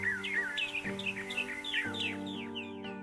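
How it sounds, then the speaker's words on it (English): Birds squawk in the video game The Life and Suffering of Sir Brante. A stream of harsh, descending cries repeats over a steady humming musical backdrop, moderately loud, with no voices. "The birds aren't quite as blaringly loud."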